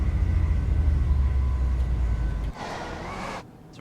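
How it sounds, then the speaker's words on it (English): Class 185 Desiro diesel multiple unit in Train Simulator, accelerating hard with a loud low engine drone that cuts out abruptly partway, followed by a brief burst of brighter noise and then near quiet. "Really quick accelerating train."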